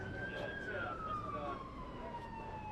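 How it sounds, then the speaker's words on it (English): A siren wails in the distance along a street in Jamaica, Queens, its tone slowly falling as it moves along, faint under steady street noise. "I would terminate sirens going down the street there"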